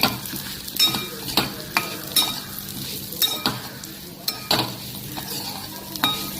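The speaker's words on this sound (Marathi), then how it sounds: "हा रवा साधारणपणे 2 ते 3 मिनटं व्यवस्थित भाजून घ्यायचा तुपामध्ये" Semolina roasting in ghee in a kadhai over a very low flame, stirred with a utensil that scrapes and clinks against the pan at irregular intervals over a soft, steady sizzle.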